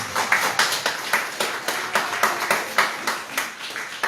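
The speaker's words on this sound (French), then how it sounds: "Acclame le Seigneur Jésus-Christ" A church congregation claps together in a steady, fast rhythm, each clap sharp and even, loud and sustained over the whole stretch with no voices over it.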